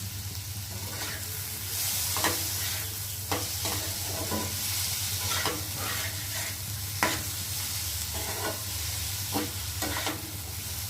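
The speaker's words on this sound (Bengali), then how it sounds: "এবার ঢাকাটা একটু খুলে আবার নেড়ে দেবো" Continuous sizzle of potatoes frying in a pan, with repeated scraping taps of a spatula stirring through them, close and steady.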